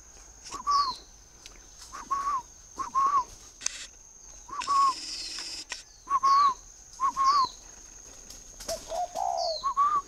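A spotted dove calls in a steady series of soft, repeated cooing phrases. Each call is clear and fairly close, with short pauses between them and no talking over it.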